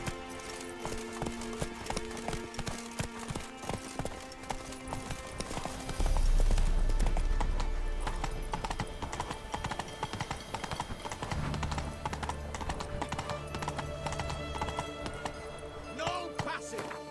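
Hooves of Roach, a horse in The Witcher 3, clip-clop in a steady galloping rhythm. The sound is moderately close under game music and ambience, and a voice speaks briefly partway through.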